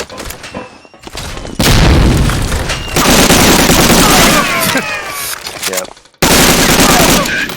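Rapid gunfire and booming shots from Medal of Honor: Allied Assault multiplayer, loud bursts of automatic fire running almost continuously over several seconds with brief breaks, a voice speaking briefly over it.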